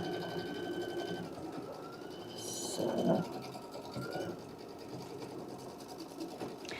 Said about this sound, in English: I'm just going to jump over here and start sewing.